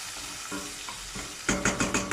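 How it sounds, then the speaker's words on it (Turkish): Garlic is being sautéed and stirred in a pan for a bulgur-free fellah köfte, a low sizzle punctuated by rhythmic spatula scrapes that grow louder and regular toward the end, close with no talk. "Böyle e, kavuruyorum"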